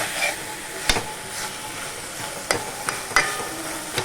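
Food stirred and mixed in oil in a frying pan, a steady sizzle broken by several sharp scraping clacks of the spoon against the pan.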